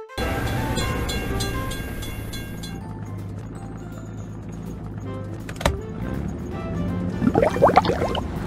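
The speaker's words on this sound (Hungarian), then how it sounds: "Milyen gyorsan megy a vonat." A fast train passing at a railway crossing, with a sustained loud rumble and hum of wagons rolling by, fading partway through, then a sharp thump and a burst of jumbled clattering near the end.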